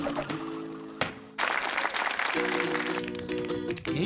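Cartoon crowd applause for Rhubarb the dog in Roobarb and Custard, a fairly loud clapping wash in bursts broken by short gaps, mixed with sustained tonal music notes.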